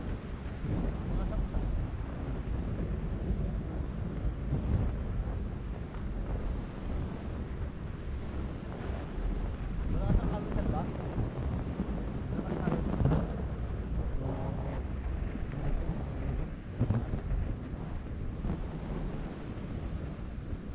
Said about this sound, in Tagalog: Yung hangin.